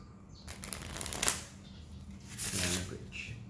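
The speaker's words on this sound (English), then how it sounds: "another way to do that is the in-hand riffle shuffle" An in-hand riffle shuffle of a deck of playing cards, heard as soft, close fluttering bursts of riffling cards, one short flurry then a second, fainter and quiet overall.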